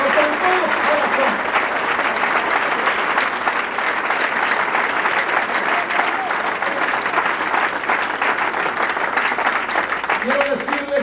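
Church congregation applauding throughout a Spanish-language service, a steady wash of clapping with scattered voices mixed in at close range.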